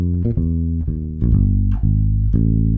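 An electric bass with kitchen sponge foam wedged between the bridge and first pickup plays a short run of muted, plucked notes with an upright-like tone, each note thumpy and quickly damped, close and clear.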